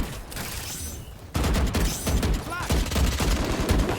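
Gunfire in a tactical shooter video game: a sustained burst of rapid shots with sharp transient cracks, loud and close, with faint game voices in the background.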